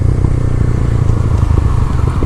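A beginner motorcycle putts along slowly in low gear for a slow wheelie, its engine a steady, close, rumbling drone with a bit of clatter and no talking.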